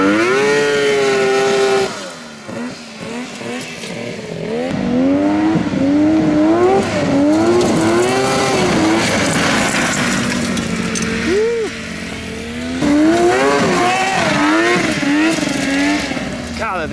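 A mini Baja Bug buggy engine on its first test drive, revving hard in rising and falling surges, loud and close, with brief easing off between bursts of throttle.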